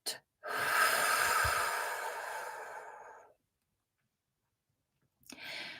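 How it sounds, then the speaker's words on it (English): One slow, deep breath flows in and out as a long airy rush, followed by silence and then the start of another breath, close and unaccompanied. "Breathing in and breathing out."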